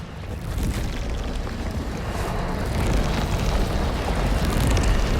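Tentacle explosion in DOOM: The Dark Ages, a sustained roaring rumble of fiery blast and debris that swells slightly and keeps going with no voices.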